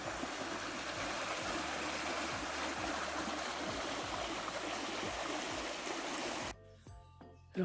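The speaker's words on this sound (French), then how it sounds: "Petite rivière. Little river." A small river near Lac d'Aydat flows in a steady, close, rushing babble that holds even for several seconds, then cuts off abruptly into near quiet.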